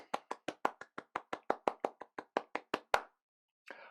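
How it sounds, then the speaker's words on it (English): Applause at an online JavaScript conference talk, a rapid, evenly spaced series of close, crisp claps, seemingly from a single person, stopping abruptly before a short burst of noise. "Please join me in giving Gleb a huge round the world round of applause."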